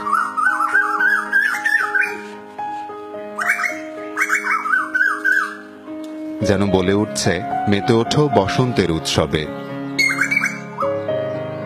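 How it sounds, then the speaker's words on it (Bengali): Rising, repeated whistled bird calls, a koel's climbing notes, sound several times at moderate distance while a voice speaks over them with music underneath. "মন মাতানো সুরে কোকিলের ডাক"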